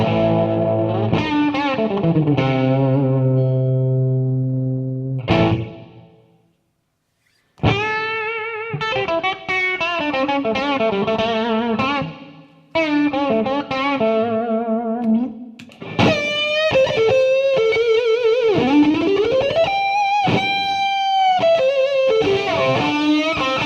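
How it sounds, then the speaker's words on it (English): Electric guitar played through a Mooer Ocean Machine pedal set to spring reverb for an amp-like tone, with chords and melodic lines ringing out with lush reverb tails, one brief pause midway, no talking. "so let's do the spring reverb to see if we could do a basic type of amp sound or amp reverb"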